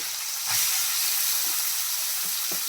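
Very fresh fish lightly frying in oil makes a loud, continuous sizzling hiss close by, broken by a few soft low bumps.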